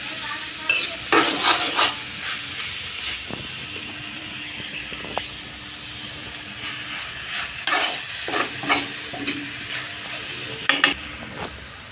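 Onions and tomatoes stirred in a pan for a chicken curry gravy, with soft sizzling broken by repeated spoon scrapes and clinks against the pan. No voices are heard.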